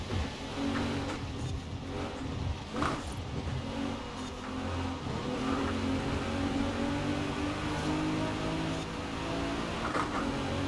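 A race car in Forza Horizon 4 drives along a highway stretch, its engine droning steadily at high speed with shifting pitch and faint mechanical whine throughout, no talk over it.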